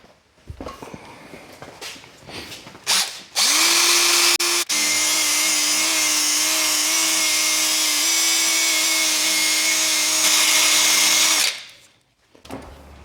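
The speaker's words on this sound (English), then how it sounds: "Now we'll grab our power ball, see what happens." A power ball polishing attachment on a drill buffs raw aluminum, spinning up to a loud steady whine for about eight seconds with slight pitch steps, then winding down, with scattered handling clatter before and after.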